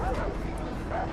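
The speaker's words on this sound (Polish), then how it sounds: "Psy mamy na karku." Dogs bark and yip in the video game Far Cry 3, a rapid, steady burst of fairly loud barking heard under a voice talking.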